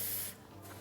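A spray bottle mists water over towel-covered baguette dough left to proof, giving a short close hiss that fades after a brief burst.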